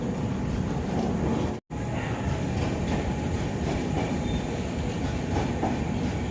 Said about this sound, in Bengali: করমণ্ডল এক্সপ্রেস বালাসোর স্টেশন থেকে ছেড়ে এগিয়ে চলেছে